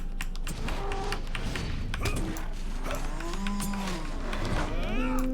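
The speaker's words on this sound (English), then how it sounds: "Those cows look cool." Cattle mooing in the video game LOTRO, several long, drawn-out low calls overlapping across the clip above a steady game hum, with occasional clicks and taps mixed in.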